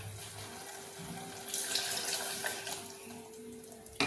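Water, about one cup, pours steadily into a pressure cooker with vegetables for sambar, a continuous splashing rush that grows brighter midway, with no voices.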